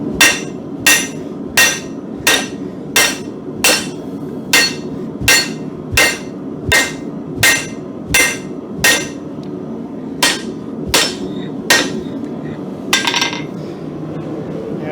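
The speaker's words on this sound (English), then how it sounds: "as I'm hammering, I'm trying to keep it as even as possible" Regular ringing hammer blows shaping a hardy tool shank on an anvil, about a dozen loud evenly spaced strikes close by, then a brief pause and a few lighter taps.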